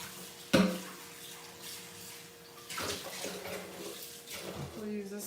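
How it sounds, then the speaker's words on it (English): Running tap water splashes into a bowl being rinsed in a kitchen sink, with a sharp clunk of the bowl at the start and bursts of water continuing close by. "Let me just rinse this out."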